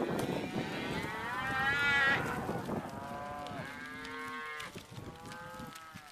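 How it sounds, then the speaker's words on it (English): Cattle lowing repeatedly during a drive of about a hundred head with calves and riders in Owyhee County, several overlapping moos near and far over constant herd noise, with no talk. "Some of these old cows are getting really tired."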